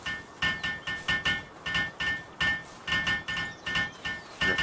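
Repeated hammering while building a hot spring in a video game, a quick series of sharp metallic clinking strikes in uneven bursts of two or three, close and fairly quiet, with no talk.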